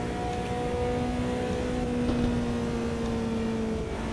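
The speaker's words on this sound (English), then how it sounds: "This car actually sounds better from the inside" Racing car engine heard from the cockpit in a sim racing game, a steady droning hum with a sustained engine tone holding at a constant pitch, moderately loud and with no speech.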